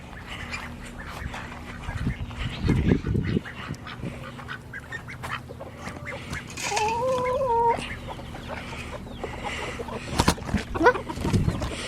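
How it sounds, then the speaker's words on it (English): Ducks quacking and clucking while being fed outdoors, scattered calls close by with a few louder bursts, over faint background noise. "Her, she's just feeding them. They're my duckies."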